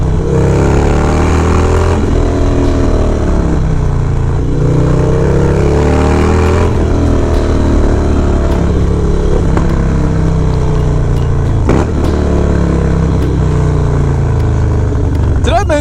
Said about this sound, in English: Did I mention that this bike is loud? Man, is this bike loud.